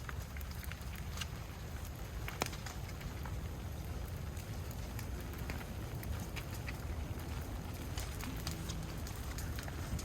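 Steady rain hisses and patters over the burned-out ruins of a house, a dense, even wash of drops hitting debris and surfaces, with a few sharper nearby splats and no voices.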